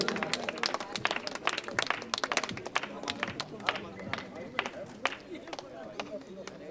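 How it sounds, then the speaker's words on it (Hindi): An audience at a public event honouring a Lok Sabha MP applauds with many scattered, crisp hand claps, fairly close and uneven in rhythm, thinning out toward the end while a voice talks over them. "तो यदि आप में दम है तो जोरदार तालियां बजाते रहें।"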